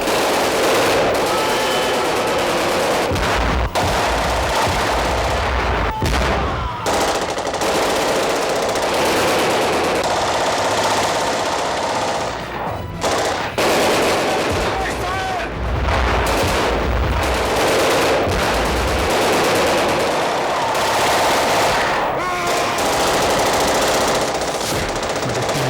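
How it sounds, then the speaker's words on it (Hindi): Sustained heavy gunfire rattles nonstop in a horror drama scene, dense automatic bursts with booming impacts layered into a loud, continuous barrage that barely lets up over nearly half a minute. "अचानक गोलियां चलने लगी।"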